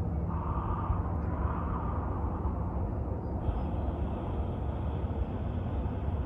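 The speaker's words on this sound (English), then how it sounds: "So if I was to make the sound of Ujjayi breath with my mouth open," Ujjayi breathing through an open mouth, a steady breathy, hissing rush of air that carries on close and fairly quiet throughout, with only a slight shift in tone partway through and no talking.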